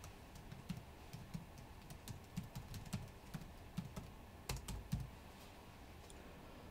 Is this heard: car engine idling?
no